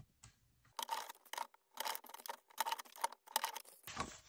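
Paper cards being creased with a 1 cm fold, a series of close crisp scraping and rustling strokes in short bursts separated by brief pauses, ending with a longer rustle, quiet overall with no talking.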